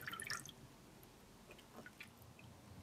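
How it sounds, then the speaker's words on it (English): Water dripping and splashing from a plastic fish bath toy that sprays water out of its tail, heard as a loud wet burst of drips at the start, then scattered soft drops in a quiet bathroom. "We put some water in its mouth. And water sprays out its tail."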